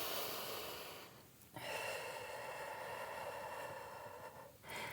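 A person draws a long, steady breath in during a yoga back-strengthening session before a side plank, the airy inhale close and clear with a short pause midway and another breath starting near the end.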